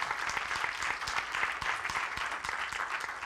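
An audience claps steadily for Brother Michael, a continuous, moderately loud patter of many hands with no voices over it.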